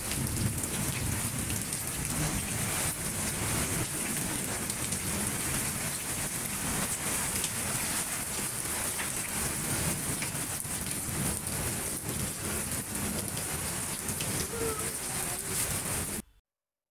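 Steady afternoon rain in Pabna, Bangladesh, a dense continuous hiss of drops on surfaces close by, loud and unbroken for the whole stretch before cutting off abruptly at the end.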